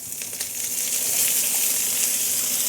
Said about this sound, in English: Now we're gonna let this fry in our bacon grease